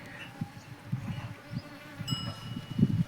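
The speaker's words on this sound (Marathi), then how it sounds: "हे बघा, माझ्या बोटासमोर इथं मोहळाची माशी." Honeybees and flies buzz close to the microphone around a bull outdoors, a low droning hum with soft swells and faint background noise, no talking.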